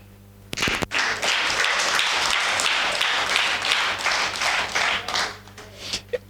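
Dense, sustained clapping from a church congregation at a prophetic and deliverance service, beginning abruptly and holding loud and even for several seconds before breaking into scattered claps at the end.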